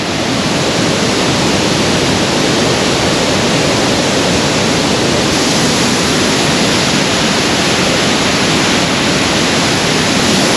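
Skakala waterfall in the Sušica canyon on Durmitor roars as a loud, steady, dense rush of falling water, continuous and unbroken, with no voices over it.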